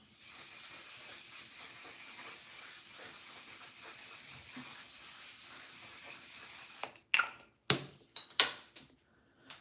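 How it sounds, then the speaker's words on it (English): A steady hissing spray from a travel-size One Size Until Dawn makeup setting spray runs for several seconds, then stops, followed by a few sharp clicks and taps close by. "I'm using the One Size Until Dawn setting spray"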